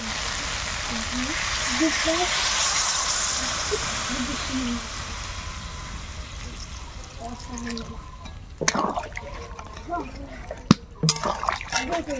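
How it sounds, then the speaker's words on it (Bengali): Water poured into a pot of fig curry, cooked like mutton, in a village kitchen: a steady splashing pour for several seconds, then drips and clatters with faint sounds nearby. "এবার আমি জল দিয়ে দেব।"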